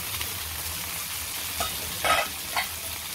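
Rawas fish coated in masala fries in a pan, a steady close sizzle with a few louder crackling spatters near the end, no voices.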